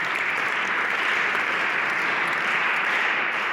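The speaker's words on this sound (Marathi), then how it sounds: "टाळ्या वाजवा" An audience at a Sunday programme in Shirasgaon, Nashik, gives steady, dense applause from many hands, filling the whole stretch without a break.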